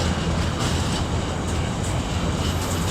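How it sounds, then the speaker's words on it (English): Railway wagons with flat wheels roll past at Nuneaton station, producing a loud, continuous rumbling clatter of wheels on track close by, with no voices. "that flat wheel sound, that was a group of bloody flat wheels"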